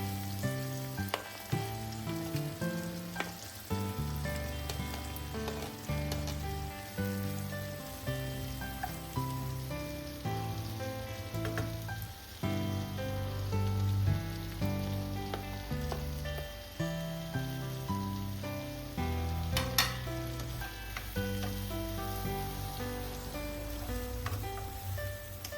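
Diced onions, carrots and bell pepper stir-fried for nasi goreng hiss and crackle in a hot pan, a constant loud sizzle with occasional stirring scrapes, close up and free of talk.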